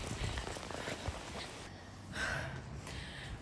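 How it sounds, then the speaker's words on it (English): Steady rain falling in the city of Kutaisi, Georgia, a dense patter hissing close around with faint breathy sounds mixed in. "it started raining"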